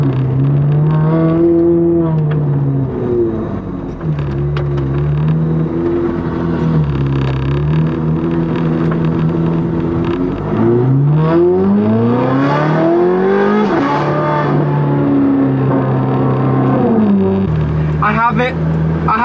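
Ferrari 430 Scuderia with an aftermarket exhaust set to open, its engine revving repeatedly in rising and falling sweeps, loud and close, with a voice talking over it.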